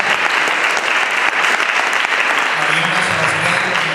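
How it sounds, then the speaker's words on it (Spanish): Audience applause at a gathering welcoming a visitor, steady dense clapping from start to finish, close and fairly loud, with a low murmur of voices toward the end. "Vamos a dar un aplauso a Ale, por favor."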